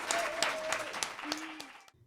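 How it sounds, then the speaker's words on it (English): Applause from a small audience at a writers' league talk on literary agenting, scattered claps with a tonal hum underneath, fading out at the end. "can we just give this guy a big round of applause"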